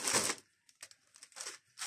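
A small plastic packet crinkles close by in short bursts: a loud rustle first, then several quick, sharp crackles with brief pauses between them.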